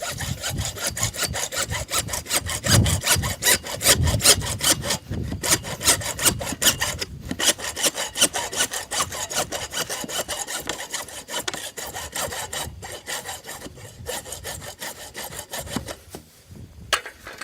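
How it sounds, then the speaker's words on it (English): Hand saw strokes cutting steadily through material, a hacksaw or carpenter's handsaw, with a continuous rhythmic rasping back-and-forth close up that briefly pauses and then resumes. "For this, it's good to have a hacksaw, or you can use even a carpenter's handsaw."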